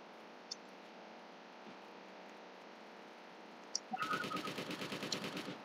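An enemy fires at the player in a horror video game, a rapid burst of close, rattling shots after a quiet humming stretch with a few isolated clicks.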